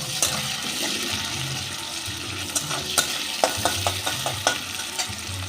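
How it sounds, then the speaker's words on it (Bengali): Onion frying in hot oil with whole spices such as dry red chilli, bay leaf, cinnamon, cardamom, cloves and cumin, a steady close sizzle with scattered sharp crackles and stirring scrapes, no voices. "এবার পেঁয়াজটা একটু লাল করে ভেজে নেব।"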